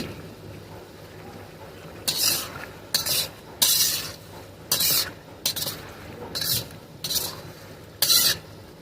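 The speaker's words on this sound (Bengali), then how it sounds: "মিডিয়াম টু হাইতে রেখে আমরা মাংসটাকে কষিয়ে নেব।" Chicken pieces being sautéed in a pan over medium-high heat for khichuri, with bursts of scraping and stirring at irregular intervals over a low sizzle, fairly close and loud.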